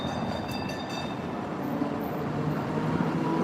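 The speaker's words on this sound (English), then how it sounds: "Look, here comes a tram." A tram passes along a street in Turin, Italy, giving a steady rumbling roll of wheels on rails close by, with no talking over it.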